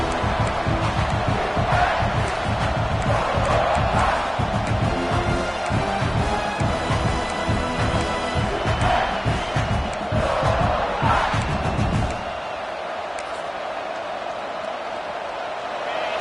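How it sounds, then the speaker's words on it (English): A large crowd roars and cheers continuously, loud and dense, then the noise drops to a lower, steadier murmur for the final seconds. "this crowd is fired up. Listen to this noise here."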